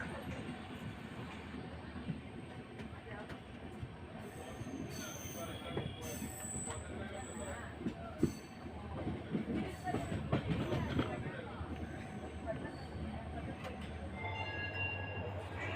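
A Mysuru-Shirdi Express pulls into platform three at Yesvantpur station, wheels squealing and carriages rumbling steadily past close by, with station bustle and faint voices underneath.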